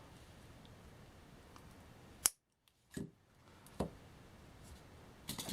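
Wire cutters trimming wire on a paper bead key chain: one sharp snip followed by a few fainter clicks and handling taps in a quiet room.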